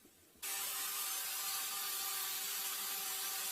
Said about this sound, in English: I know I'm going to need to remove wall horn, so I'm going to do that right now with my grinder